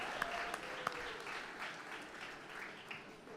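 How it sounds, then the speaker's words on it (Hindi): A church congregation applauding at a New Year's Eve service, a steady wash of clapping throughout with a few sharper individual claps standing out near the start. "क्यों ना जोरदार हम प्रभु को चिल्लाकर, हम ताली बजाकर परमेश्वर को धन्यवाद दें"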